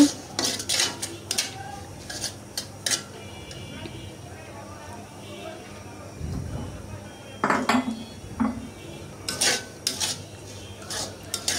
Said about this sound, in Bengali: এখন সুন্দর করে এগুলো ভেজে নিচ্ছি।